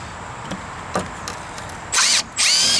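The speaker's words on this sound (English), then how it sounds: "And that's why I wanted to use the impact driver for this." An impact driver sinks screws into deck boards, with a few faint clicks before two loud, sustained bursts of rapid hammering, close by and with no talking.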